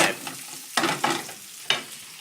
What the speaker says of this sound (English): they've sautéed for a few minutes and they're looking lovely